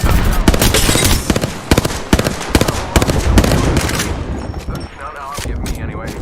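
Rapid bursts of close, loud gunfire from the Apex Legends battle royale game, dense machine-gun volleys in the first four seconds thinning to scattered shots, with a voice talking over the action.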